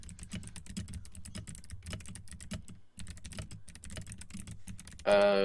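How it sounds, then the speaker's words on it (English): Rapid clattering keystrokes on a computer keyboard, close and continuous with a brief pause midway, then a sudden louder burst of noise at the end. "the clickety-clackety of bunnies typing"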